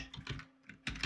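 Quick keystrokes on a computer keyboard while a file name is typed, a short burst of close, crisp clicks with a brief pause before a final cluster of taps.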